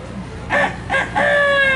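A storyteller imitates a rooster perched on a hen house roof, giving a loud, close, drawn-out crow in a few rising bursts with a sustained, wavering tone at the end.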